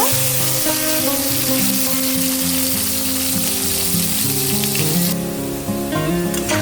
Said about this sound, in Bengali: এই তেলের মধ্যে আমি নুন হলুদ মাখানো আলুগুলো ভেজে নিচ্ছি।